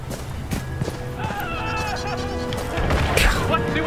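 Nasal, honking quacks of a duck sound in the Hitman video game, several rough calls over a busy background of ambient game noise and clatter.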